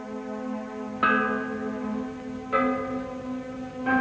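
An ancient cast bronze bell, tuned to sound two notes at once, is struck three times at a steady interval, each loud clang ringing out with a long sustained hum beneath.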